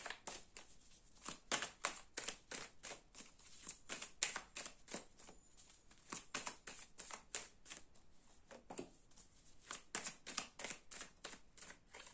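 Tarot cards being shuffled by hand, a quiet run of quick riffling bursts in repeated rhythmic bouts with brief pauses between them, close and alone.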